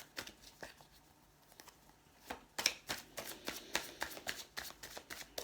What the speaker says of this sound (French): Voici le jeu de la triade. D'abord, je vais mélanger.